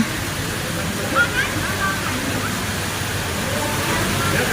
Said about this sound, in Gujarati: અને અહીંયા સરસ મજાનું પાણીના ફુવારા થાય છે, જોઈ શકો છો.